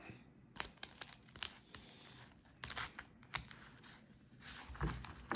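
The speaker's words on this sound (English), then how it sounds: "let's shuffle up here and deal some cards" Crisp papery riffling and flicking of Magic: The Gathering cards in quick bursts, close by, with light scraping and tapping between shuffles; no talking.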